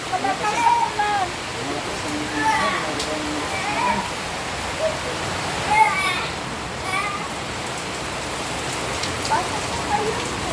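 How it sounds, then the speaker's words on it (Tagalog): Heavy rain pours down steadily in a broad hiss for the whole stretch, with people talking over the downpour. "Malakas sa ulan"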